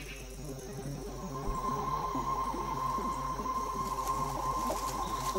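A cricket chirps in rapid, even pulses close by on a Lemuria island, a steady high insect trill carrying on alone without any voices.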